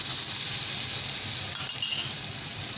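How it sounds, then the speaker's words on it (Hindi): Ginger garlic paste frying in a pot with onions for mutton degi biryani, a steady close hiss and sizzle running unbroken throughout, with faint stirring scrapes. "इसे जो है चंद सेकंड भूनूंगी ताकि इसकी महक जो है वो निकल जाए"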